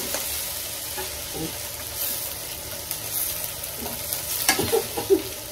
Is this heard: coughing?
no